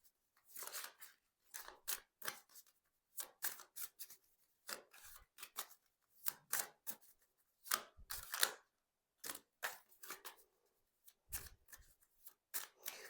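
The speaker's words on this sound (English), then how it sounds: "but I will split this deck properly" Tarot cards being split and shuffled by hand, with a series of quick, crisp riffling and snapping bursts in irregular clusters and short pauses between them, close and fairly quiet.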